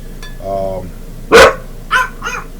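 Dogs bark close by at a home cooking session, one sharp loud bark followed by two shorter ones, with a softer whine or yip before them.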